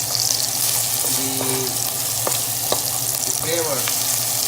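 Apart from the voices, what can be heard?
onions and ginger sautéing in a pan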